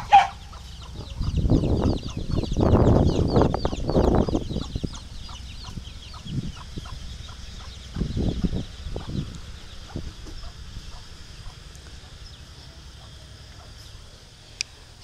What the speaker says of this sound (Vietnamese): Gà tre, gà chọi.